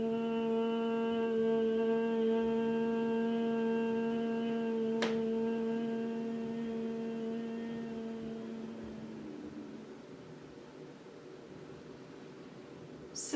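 A steady, low hummed exhale in Bhramari Pranayama (bee breath), sustained and buzzing for about nine seconds before trailing off into quiet, with no talking over it.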